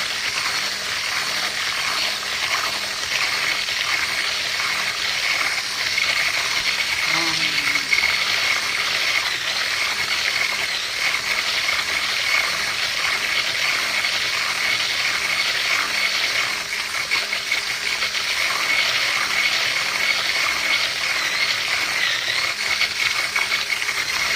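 Boiling water is stirred into blini dough in a bowl, a steady scraping, sloshing mix with rhythmic rattling strokes that continues evenly throughout.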